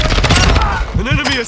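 Short bursts of gunfire from the Warzone 2 video game, loud and close, mixed with a game voice line and busy combat effects.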